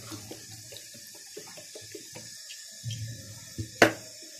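Water is poured out of a cooking pot and splashes in short, uneven bursts, ending with one sharp, louder splash close by.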